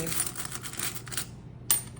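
Coins pulled from a savings jar clink and rattle against each other in a quick metallic jumble, then a short pause, then one sharp final clink, close and fairly loud, with no talk.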